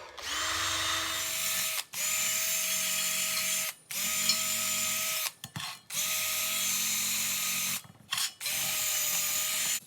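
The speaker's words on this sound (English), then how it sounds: "we're going to use a cordless drill with a nice little wire brush on the end, and we'll just run it around all the welds" A cordless drill fitted with a small wire brush scrubs the welds on a spoked steel wheel for an engine cart, giving steady whirring bursts of a few seconds each, separated by brief pauses, close by and alone.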